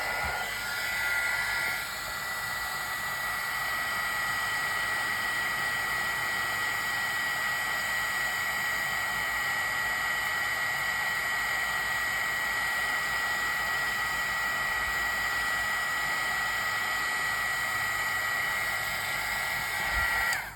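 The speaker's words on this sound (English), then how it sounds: "now I'm going to turn on the embossing gun" A heat embossing gun blows hot air over vellum in a steady, continuous rushing hiss. It runs loud and unbroken for about twenty seconds, with no talk.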